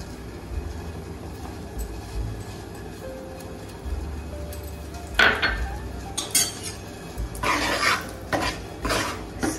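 Ragi flour roasting in ghee in a pan for ragi walnut laddoos, with a low background hum and then a series of close, rhythmic scraping and clinking strokes of a ladle against the pan, no talking.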